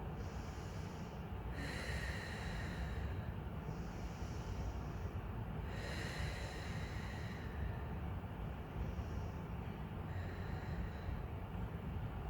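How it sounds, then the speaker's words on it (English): Slow nasal inhales followed by longer mouth exhales during a mat pilates cool-down, two or three full breath cycles heard close up over a steady background hiss. "easy breathe in through the nose and out through the mouth"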